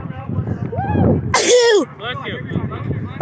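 A single sharp human sneeze bursts out mid-clip, close and loud, among people chatting after an Air Raiders game; voices talk before and after it.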